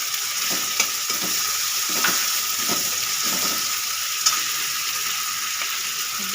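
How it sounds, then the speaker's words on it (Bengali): Spice masala being stir-fried with chopped tomato in a pan, a steady close sizzle broken by soft scrapes and knocks of a stirring spoon, no voices. "আমি একটু নেড়ে নেব মশলাটা কষিয়ে নেব এবার দিয়ে দেব টমেটো কুচি"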